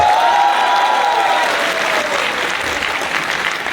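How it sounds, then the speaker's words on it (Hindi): An audience at IIT Roorkee bursting into loud, sustained applause, dense clapping from a large crowd that fades slightly toward the end, with a faint whistle at the start. "एक बार जोरदार तालियां बजा दी IIT रुड़की के लिए वापस।"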